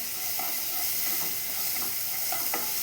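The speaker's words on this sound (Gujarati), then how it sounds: "એને પણ એક મિક્સ દઈ દઈશું, ક્વિક મિક્સ દઈ દઈશું ફ્રેન્ડ્સ." Peas, spices and salt stirred in a hot pan for a matar kadhi, a steady close sizzle with a few soft scraping strokes of the spoon, no voices.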